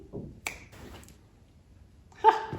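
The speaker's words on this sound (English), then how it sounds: "could you snap your fingers again for me?" A couple of sharp finger snaps in a quiet indoor studio, one near the start and a brighter one near the end, with brief faint murmuring between them.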